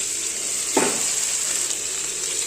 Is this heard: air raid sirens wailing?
no